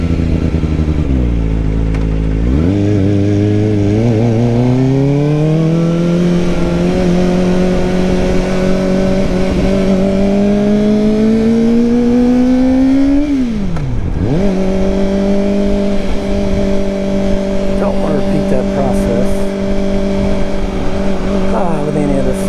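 A Kawasaki ZX-4RR 40th Anniversary Edition sports motorcycle being ridden, its engine loud and close as it revs up through rising pitch, holds a steady drone, dips sharply when the throttle is rolled off, then settles into a steady cruise.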